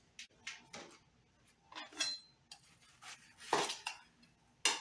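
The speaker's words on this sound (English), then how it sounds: "Tossing my spinach and my lettuce just to mix it up a bit." Spinach and lettuce salad gets tossed with utensils in a bowl, giving short bursts of rustling leaves and light clinks of metal on dish in uneven pulses, close up, with quiet gaps between tosses and no voices.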